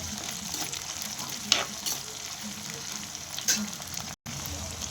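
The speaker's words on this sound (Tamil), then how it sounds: "அடுத்து சின்ன வெங்காயம் அடுத்து கருவேப்பிலை போட்டு கொஞ்சம் பொன்னிறமாக வதக்கணும்" Small shallots and curry leaves sauté in hot oil after mustard seeds and cumin for a manathakkali keerai poriyal, a continuous close sizzle with a few sharper crackles and stirring scrapes.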